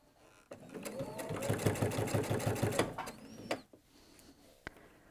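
A sewing machine runs steadily for about two seconds while stitching a seam on a jelly roll rug made of joined fabric strips, then stops with a clunk, followed by a faint click.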